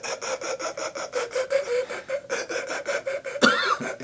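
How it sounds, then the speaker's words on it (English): A harmonica player makes an inward gasping throat vibrato, a raspy, rhythmically pulsing drawn note that throbs several times per second, loud and close, ending in a harsher burst, with no speech. "It's almost like a controlled gasping spasm."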